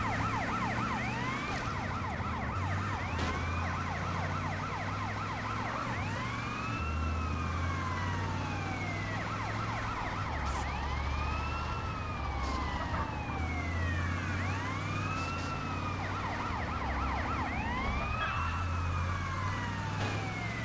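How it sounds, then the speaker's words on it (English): Police car siren in the GTA San Andreas video game, a repeated rising and falling wail cycling steadily over a continuous low engine rumble, loud and persistent throughout with no talk. "Gotta get this police car off my ass."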